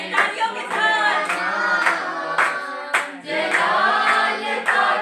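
Congregation clapping in rhythm along to a Hindi Christian hymn, a steady beat of hand claps mixed with loud group singing and music throughout.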